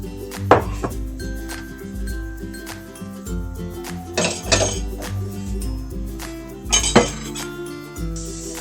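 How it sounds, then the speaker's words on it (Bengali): A wok is set down on the stove amid several sharp metallic clanks and clinks of pots and utensils, loud and close, scattered irregularly over a quiet kitchen background. "আমি এখন আর একটা কড়াই বসিয়ে দেব চুলায়।"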